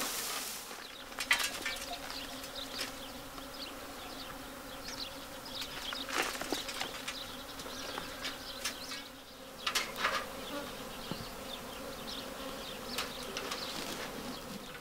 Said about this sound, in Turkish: kraliçenin kokusu avucumda diye arı buraya geliyor